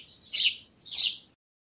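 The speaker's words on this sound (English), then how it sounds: "Sparrow." A sparrow giving two short, high chirps spaced about half a second apart, bright and fairly close against a quiet background.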